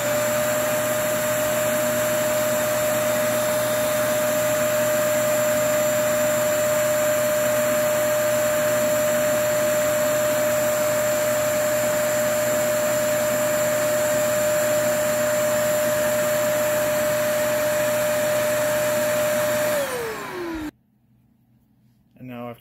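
A Kenmore Elite 21814411 vacuum cleaner running on its high setting, a loud, steady, unbroken motor whine and airflow roar that winds down and cuts off near the end, then a brief noise.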